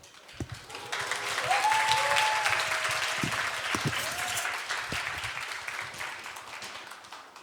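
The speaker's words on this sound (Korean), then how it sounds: "박수 한번 해요." Church congregation applauding at a Korean worship service, steady clapping that swells after the first second and holds through the end, with a few brief voices rising over it.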